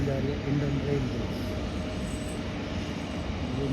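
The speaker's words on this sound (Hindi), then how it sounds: "देखो गाइस ये कौन सी ट्रेन जा रही है, इंडियन रेलवे" An Indian Railways freight train rumbles past behind open farm fields, a steady low roar at moderate distance throughout, with someone talking over it.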